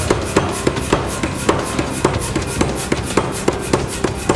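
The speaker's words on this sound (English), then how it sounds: "We've got it installed here in the power hammer. It's time to give it a try on some mild steel." A power hammer forges mild steel with rapid, regular heavy blows, about four per second, loud and close over a constant mechanical drone.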